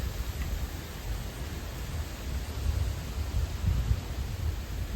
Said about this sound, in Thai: ลมก็พัดไม่หยุดที